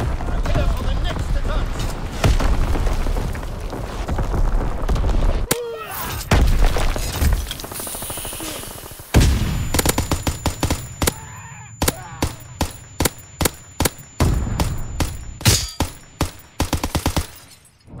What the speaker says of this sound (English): Enemy artillery, get to cover